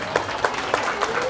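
An audience at an Islamic celebration gathering claps in a steady, moderately loud burst of applause, with individual sharper claps standing out in a regular rhythm.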